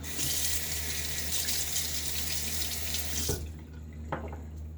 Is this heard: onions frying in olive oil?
no